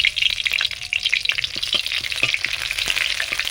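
Dried red chillies and a whole bay leaf temper in hot mustard oil in a kadai, giving a steady close sizzle full of small crackles and pops, with no talking.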